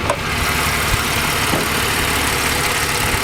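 A Ford AU Falcon engine, once troubled by a head gasket issue, idles steadily and smoothly up close, giving a continuous even rumble with no revving and no voices.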